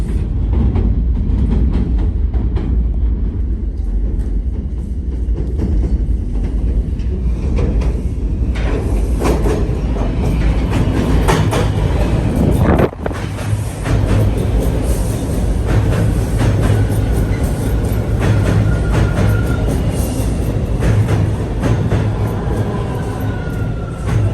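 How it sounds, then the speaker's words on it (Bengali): A train at a railway station: loud, continuous low rumble and mechanical drone close by, with squeals and clatter midway and a brief pause around the middle before the heavy rumbling resumes, no voices. "জাস্ট ট্রেনটা মিস করলাম। ট্রেনের জন্য ওয়েট করতে হবে।"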